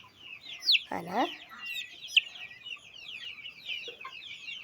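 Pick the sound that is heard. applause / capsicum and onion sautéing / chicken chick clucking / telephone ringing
chicken chick clucking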